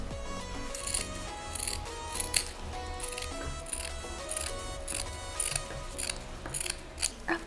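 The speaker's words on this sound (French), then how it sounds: "dans les angles, on coupe en diagonale" Scissors snip through fabric, trimming excess cloth diagonally at the corners of a sewn zero-waste gift wrap; a steady series of close, crisp cutting strokes with light clicking of the blades, no voices.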